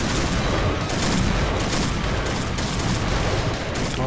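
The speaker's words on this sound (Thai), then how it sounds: "เรายิงเขานัดเดียวไม่ตายเนี่ยนะ" Rapid gunfire from the Point Blank game, continuous bursts and overlapping shots filling the whole stretch at steady loudness, with no voices over it.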